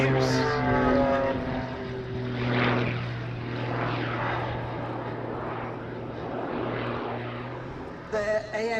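A Jet Pitts aerobatic biplane fitted with two Dutch AMT jet engines of about 350 pounds of thrust each roars past at an airshow, loud and sweeping, with a brief change near the end.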